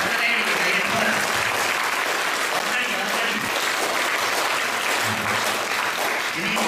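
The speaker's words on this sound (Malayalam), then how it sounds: "എല്ലാവരും നന്നായിട്ട് രണ്ട് സൈഡിൽ നിന്ന് ഒന്ന് കൈയടിച്ച്" An audience at a music programme claps loudly and continuously for several seconds in a dense, even wash of applause, with voices faintly underneath.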